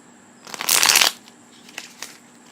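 A brief burst of tarot cards being riffled and shuffled, loud for about half a second, followed by a few soft taps and card clicks.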